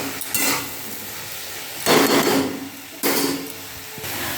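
Shrimp pieces fry in a pan for fried rice, with bursts of loud sizzling and scraping stirring strokes repeating every second or so over a lower steady frying hiss, no talking.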